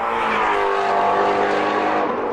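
A flat-plane crank V8 sports car engine, redlining over 8,000 RPM, roars steadily and loudly while accelerating, a dense, sustained mechanical howl with no talk over it.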